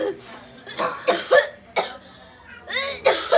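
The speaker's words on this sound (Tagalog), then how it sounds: "Ubo naman yan eh." A woman coughs in harsh, closely spaced bursts during a home exorcism, loud and near, with someone talking between the coughs.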